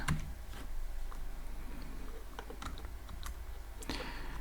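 A computer keyboard clatters softly as Python code is typed, with scattered light key taps at an irregular pace and a quiet steady background hum.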